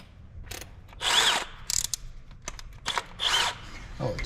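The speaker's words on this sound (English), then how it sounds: "I don't know if my drill's liking that." A power drill works on hot metal pieces in a Squarebody truck engine bay, whirring in several loud, short bursts separated by quieter pauses and small clicks.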